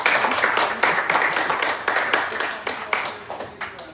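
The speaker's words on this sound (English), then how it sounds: "Y'all give him another round of applause." Applause breaks out for a jazz musician at a New Orleans swing show, a crowd clapping in loose bursts that gradually thin out and fade over a few seconds.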